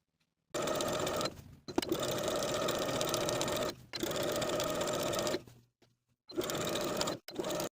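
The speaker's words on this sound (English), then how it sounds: "I'm going to edge stitch close to the innermost fold all the way around both pant legs" A sewing machine runs in several bursts of steady, close mechanical whirring with short pauses between them while edge stitching near the inner fold of folded culotte pant leg hems.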